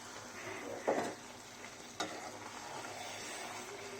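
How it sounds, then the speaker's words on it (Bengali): Plum pickle mixed with tamarind and mango leather is stirred in a pan, a low steady sizzle with a couple of soft scraping knocks of the spoon. "এখন শুধু নেড়ে চেড়ে মিক্স করে নিচ্ছি"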